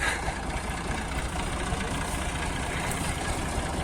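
A tractor engine runs steadily on a village farm during harvest work, a close, continuous low rumble with no break in its even idle and no voices.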